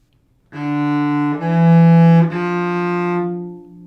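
A cello sustains one low, steady F natural through three bow strokes, rich and close, with a soft release at the end.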